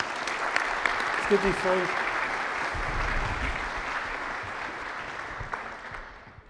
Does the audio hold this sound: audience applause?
yes